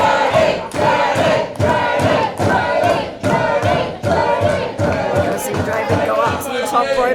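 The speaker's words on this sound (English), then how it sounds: "Draven getting some crowd support behind him." Crowd at an Australian pro wrestling no-DQ ladder main event cheering and shouting for Draven, loud chants with rhythmic stomps or thuds in bursts, mixed with voices and a commentator speaking over it.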